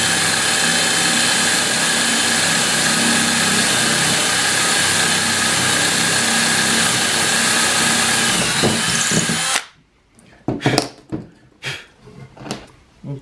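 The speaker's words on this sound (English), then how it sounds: "I want to drill through my table." A power drill runs continuously through a wooden piece into the table beneath while building a chef's knife stand, a loud sustained whine for about nine seconds, then stopping abruptly and followed by scattered knocks and handling sounds.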